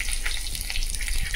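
Chopped garlic hits hot oil in a wok and gives a brief, close, bright sizzle that crackles steadily for a moment.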